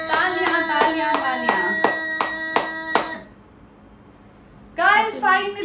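About eight sharp hand claps in a steady rhythm, close and loud, followed by a pause and then people talking.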